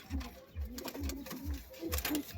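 Pigeons coo repeatedly nearby in soft, low, rhythmic bursts, one call rolling into the next.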